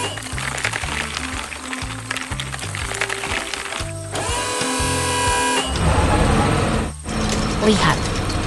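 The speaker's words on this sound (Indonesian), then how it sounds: "dia mengganti bucketnya dengan bor besar untuk melubangi tanah keras itu." A large drill rig bores into hard ground beneath a sidewalk at a construction site, drilling with rhythmic mechanical pulsing and grinding, then a loud high whine, close and continuous with brief interruptions. Someone talks over the noise.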